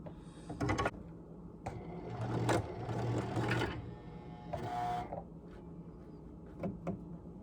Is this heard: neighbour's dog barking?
no